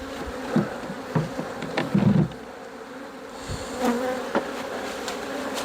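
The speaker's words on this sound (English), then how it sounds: "I do need to get at least one more frame of bees" Dense, steady buzzing of many honeybees close by after a swarm, with occasional light knocks and clicks of wooden hive frames being handled.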